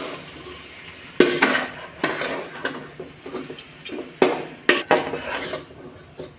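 Puffed rice upma is stirred in a pan, a spoon knocking and scraping against the metal in irregular strokes, close and clear, with a faint sizzle underneath.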